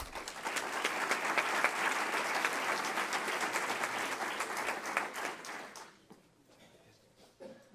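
An audience applauds at an entrepreneurship award ceremony in Fuenlabrada as an honoree goes up to collect a seal, a steady dense burst that fades out over the last two seconds.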